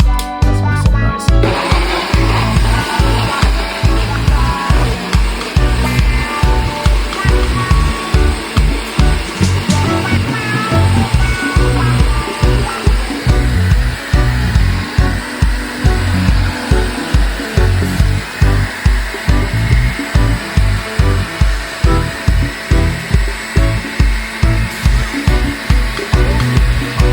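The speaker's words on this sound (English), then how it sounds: "Let's blend this up." A kitchen blender whirs loudly through a detox drink for about half a minute, a steady motor drone with a rapid rhythmic chopping pulse running throughout, no voices over it.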